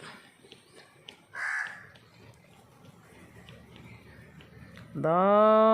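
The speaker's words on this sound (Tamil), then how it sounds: "காக்காவும் வந்து உட்காந்தாச்சு." Crow cawing in an outdoor village setting near hills, a few harsh calls rising over faint background activity, with a loud, sustained harmonic call near the end.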